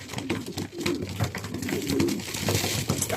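Young racing pigeons coo softly nearby, low rolling calls repeating in loose overlapping waves amid rustling and faint background noise.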